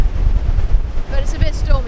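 Stormy wind blusters over the microphone on the Cornish coast near St Michael's Mount, with heavy low rumble from the rough sea and surf. A voice speaks faintly under the noise.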